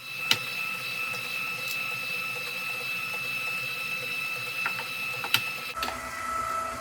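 An electric mixer runs in a bowl of cream cheese pound cake batter as eggs are beaten in, giving a steady, fairly quiet whir with occasional clicks and a brief change in tone near the end.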